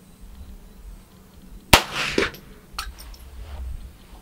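A .22LR rifle fires once at a target 100 yards off, a sharp loud crack followed by a brief rolling echo and a fainter distant impact or report about a second later, outdoors with no talking.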